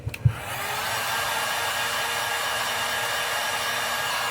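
A heat gun blows a steady, close, continuous hot-air roar while setting fresh paint on a fishing popper lure, starting after a couple of short handling clicks.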